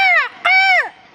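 Two loud, close crow caws, each a harsh drawn-out call with a brief gap between them, standing alone without other sounds.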